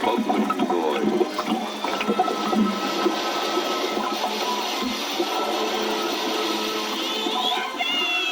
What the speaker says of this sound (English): There was a great hissing splash, and a thick, bubbling noise.